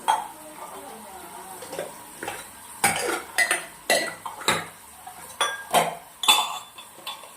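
Metal dishes and tumblers clink and clatter as they are stacked upside down one after another in a kitchen, close by, in irregular knocks.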